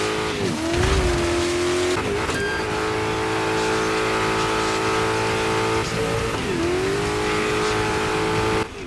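A rally car in the racing video game Dirt 5 drones with a loud, continuous engine whine. Pitch dips and climbs again at a few gear shifts, with brief tyre scrabbles near the start.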